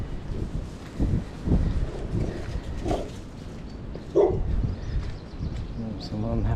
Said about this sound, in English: Some unhappy dogs there.